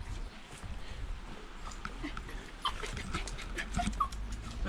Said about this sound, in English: We've got the guard dog here.